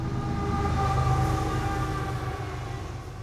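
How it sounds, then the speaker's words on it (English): A red freight train rumbles past fast and close, a loud steady roar with grinding wheel tones and a sustained horn-like drone, no voices. "There's a recording labelled "Red Freight Train Passing Fast.""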